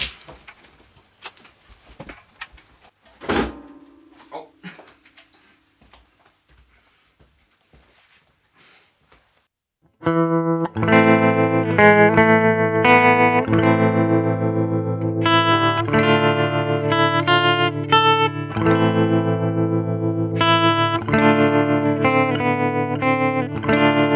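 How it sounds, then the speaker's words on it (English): A 1992 Gibson Les Paul Standard electric guitar with humbucker pickups plays a sustained, chordal riff through effects from about ten seconds in. Before that there are only quiet scattered sounds and a brief click. "I think I'll plug in my 92 Les Paul Standard just to have a comparison with the Gibson"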